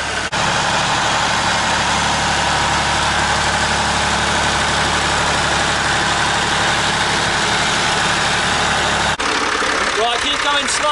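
A truck engine idles with a steady low rumble that holds evenly for about nine seconds before abruptly changing, with voices talking over it near the end.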